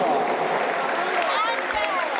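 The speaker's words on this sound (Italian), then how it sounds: "Un applauso, un applauso!" An audience applauds in a dense, continuous wash of clapping, steady and fairly loud throughout, with voices calling out over it.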